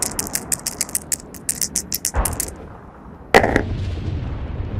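Rapid bursts of machine gun fire from the tabletop-style war game Sword & Fire: Manila, a quick string of sharp shots followed by a heavier blast and lingering rumble.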